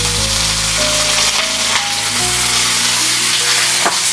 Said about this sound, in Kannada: ಅದಕ್ಕೆ ತೆಂಗಿನೆಣ್ಣೆಯನ್ನು ಒಗ್ಗರಣೆ ಹಾಕ್ತಿದ್ದೀನಿ